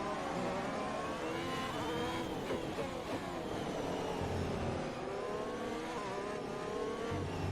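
Formula 1 race cars in F1 2021 at the Russian Grand Prix under a safety car, pulling into the pits with a continuous whining engine drone that rises and falls in pitch, steady and moderately loud with no speech.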